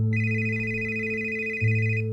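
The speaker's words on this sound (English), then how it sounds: "The phone rang." A telephone bell rings steadily and fairly loud, with a sustained tone that shifts slightly near the end, with nobody speaking.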